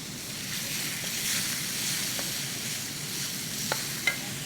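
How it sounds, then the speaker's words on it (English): Prawns and calamari sizzle and fry in chili in a pan, a steady close hiss with stirring scrapes and a couple of sharp pops near the end. "once the prawns have had just a little bit of time in the chili, we add the calamari as well"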